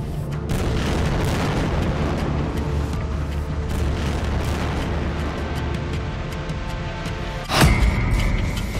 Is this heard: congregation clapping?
no